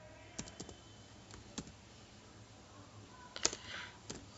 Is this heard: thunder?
no